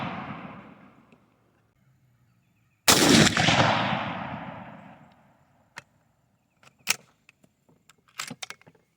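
A single loud rifle shot from a bolt-action upper firing PMC M855 rounds at a 100-yard target, a sharp crack with a long fading echo, followed by scattered metallic clicks of the bolt being worked.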